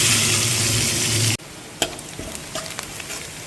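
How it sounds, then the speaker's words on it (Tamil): Garlic and onions sauté in hot oil with a loud, even sizzle that cuts off abruptly, then scattered scraping and stirring clicks in the pan, without any voices. "ஆனியன் நல்லா கோல்டன் ப்ரௌன் கலரில் வதக்கியாச்சு"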